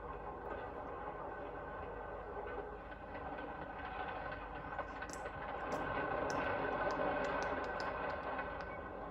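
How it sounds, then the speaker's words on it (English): A passenger train rolls steadily along the tracks with a continuous rumble and rattling wheel noise, with clicks growing slightly louder toward the end. No voices. "the train speeds toward the sunset"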